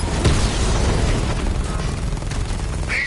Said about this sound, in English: The device will explode.